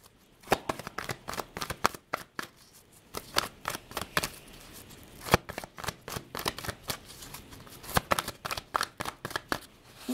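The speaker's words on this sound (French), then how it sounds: "Je vais tirer quelques cartes d'oracle pour conclure." Oracle cards are shuffled by hand. The crisp riffling and slapping bursts come close and clear in a steady irregular rhythm, with no voice over them.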